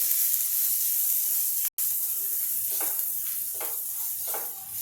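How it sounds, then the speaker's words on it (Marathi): Green chili paste sizzles steadily in a hot pan while being stirred for a Maharashtrian green peas karanji filling, a continuous close hiss broken by a brief silent gap and soft rhythmic scraping strokes. "वाटण टाकल्याबरोबर याला हलवू थोडं"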